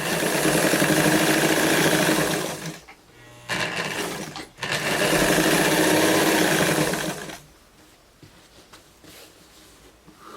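A sewing machine topstitching denim with ordinary thread under a standard presser foot, running in two loud, fast, continuous bursts separated by a short pause, then falling quiet.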